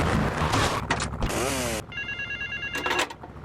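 Payphone ringing in the GTA Vice City video game, a fast electronic trill sounding up close over loud engine and street noise.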